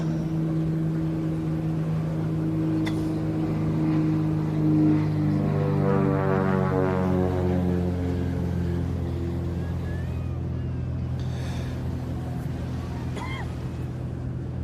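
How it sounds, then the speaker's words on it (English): A Cessna 172 light aircraft's Continental propeller engine drones steadily, its pitch sweeping as it passes nearby at an air show, then fading slightly while the hum continues. "you'd be very familiar with that Continental engine sound"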